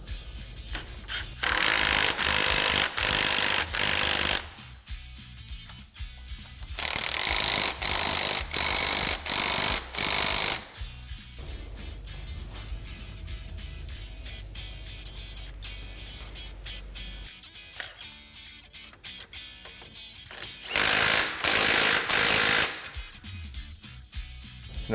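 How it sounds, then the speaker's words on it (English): A power tool with a 16mm socket fully tightens the brake caliper bracket bolts on a Polaris RZR Pro R, rattling in several loud, close bursts of a few seconds each, separated by quieter handling noise. "we're going to come in with our 16mm socket, fully tighten our brake caliper"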